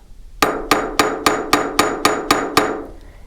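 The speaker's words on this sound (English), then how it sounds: "I can flip it over, give it a couple of more taps" A hammer taps an aluminum rivet flat on metal with eight sharp, evenly spaced strikes about a third of a second apart, close and fairly loud, then stops with no voices.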